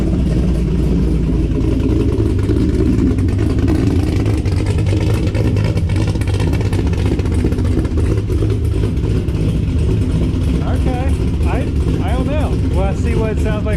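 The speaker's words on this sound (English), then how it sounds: "see what it sounds like when we rev it up" A C6 Corvette V8 fitted with a Texas Speed cam, not yet tuned, runs loud and steady with a lumpy, rough idle and rising revs, close up, while people talk over it.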